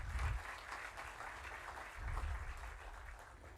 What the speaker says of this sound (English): A huge round of applause for our chief guest.